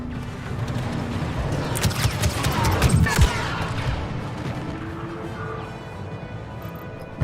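Blaster gunfire in a Star Wars Battlefront 2 battle, a cluster of sharp bursts and booms rising to a peak, then fading into steady background battle noise.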